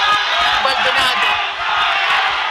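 A boxing crowd at a super bantamweight title fight roars and chants in a dense, loud wash of voices, with a commentator's speech mixed in.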